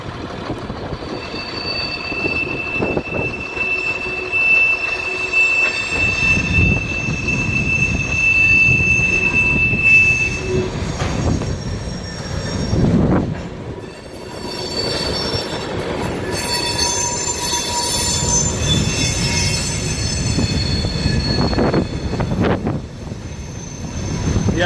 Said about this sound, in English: Train's being pushed, no engine on it.